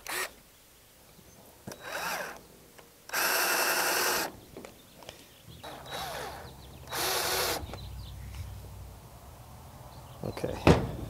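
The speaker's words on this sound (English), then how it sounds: "I'm just going to hit it with the unibit." A unibit step drill bores through a car trailer plate in several short, loud whining bursts of one to two seconds each. Quiet gaps with clicks and handling knocks separate the bursts, and a clank sounds near the end.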